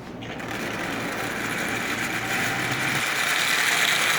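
A Marx 898 toy locomotive, not yet oiled, runs forward on track pulling a heavy consist, giving a steady close whirring motor drone with a constant mechanical buzz that rises slightly in loudness.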